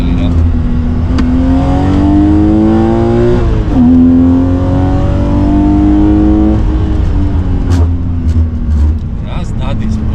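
A BMW 3 Series engine revs hard and close, its pitch climbing steadily, dipping briefly, then rising again before easing off into a sustained loud drone.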